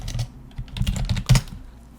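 Someone types briefly on a computer keyboard, a close run of light, irregular key clicks with one firmer tap near the end.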